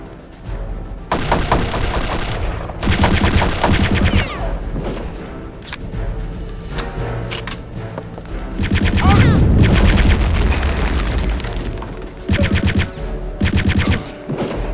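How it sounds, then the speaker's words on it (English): Video game battle against Nazis with sustained machine-gun bursts and rocket blasts in repeated loud volleys, broken by short pauses, and a heavier roaring explosion in the middle. "Stop firing rockets at me!"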